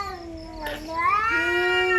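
A cat, seemingly an earless one, lets out drawn-out, wavering meows and caterwauls in two long cries close to the listener, with no talking over them.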